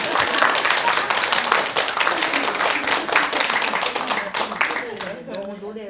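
An audience claps at a Buddhist dharma talk, with a burst of brisk, sharp applause that thins out near the end as a voice resumes speaking.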